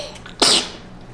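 A toddler lets out one sharp sneeze, a brief close burst that rises and fades quickly over a quiet background.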